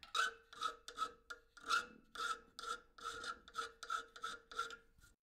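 Hand-filing strokes smoothing and chamfering a milled metal fork for a belt grinder: about eleven steady rasping passes in an even rhythm, close and clear, with no voices.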